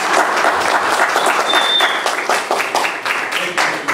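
An audience at a neighborhood watch meeting breaks into applause, a loud burst of clapping close by in a room, with some voices mixed in.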